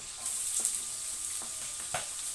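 Ginger sautéing in hot cooking oil, a steady close hiss of frying with a few soft stirring knocks scattered through, no voices present.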